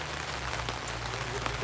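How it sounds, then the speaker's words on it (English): Steady rain patters down with a soft, continuous hiss, joined by a low hum in the background. "Now if it stops raining a little bit later"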